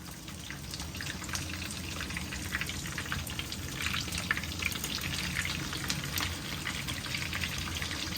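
Peshawari chapli kebabs fry in a pan of oil, a steady crackling sizzle with scattered pops throughout and a slight swell midway as they are flipped.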